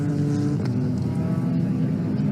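An MG Midget race car with a 2.7-litre Millington race engine in a space frame chassis, racing at Donington Park, gives a steady, loud engine drone throughout with a brief shift in pitch partway.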